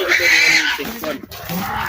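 Pig being carried and loaded, giving a loud close squeal at first, then shorter grunting squeals as people talk nearby.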